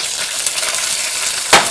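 Green and red chillies sautéing in hot oil in a pan give a loud, steady, close sizzle, with one sharp scrape or clink of a utensil near the end.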